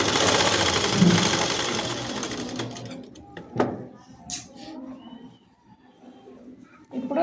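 Sewing machine stitching the lining of a bell sleeve: a fast, steady mechanical whir for about three seconds close by, then it stops, followed by a few soft clicks and handling noises in near quiet.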